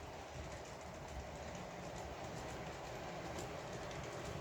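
A model DCC locomotive fitted with a plain, soundless DCC chip runs along the track pulling a few wagons, giving a steady, even mechanical rumble and whir throughout with no voices.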